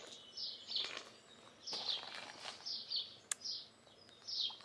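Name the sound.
birds singing after the dawn chorus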